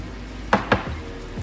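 Softened, microwaved food being mixed together in a bowl gives two sharp utensil knocks close together, then a quieter tap a moment later, alone against a low background hum.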